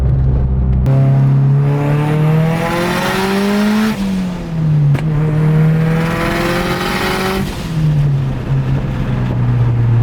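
A twin-turbo Mazdaspeed 6 engine roars loudly at 20 psi boost as it accelerates through gear changes, with one sharp exhaust pop cracking out midway from its loud external wastegate.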